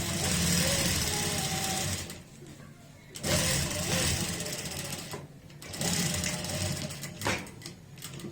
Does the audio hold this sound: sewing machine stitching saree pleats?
yes